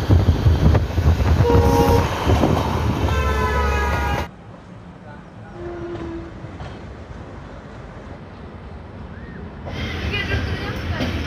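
Inside a moving passenger carriage of the Sarbat Da Bhala Express, a loud rumble and rattle fill the first few seconds before dropping to a quieter, steady running drone, with voices heard along the way.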